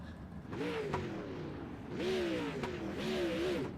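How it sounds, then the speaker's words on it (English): Sprint cars lap the Eldora dirt track in a Super Sprint Series event, engines revving in repeated rising and falling sweeps as cars pass, distant and moderately faint. "So cars have taken to the track here"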